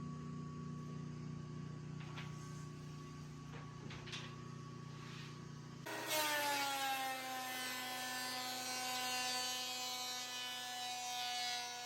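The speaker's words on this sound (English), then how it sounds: "This is us cutting down the solid wood to create those trim pieces that are going to go on the front of the boards" A power saw cuts solid walnut into trim pieces in a woodworking shop: the motor idles with a steady hum, then the blade bites in with a loud, sustained whining rip that holds to the end.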